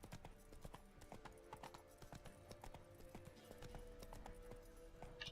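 Horse hooves clip-clop in a steady walking rhythm in The Witcher 3: Wild Hunt, close and distinct, over a faint background ambience.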